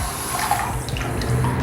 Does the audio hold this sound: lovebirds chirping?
no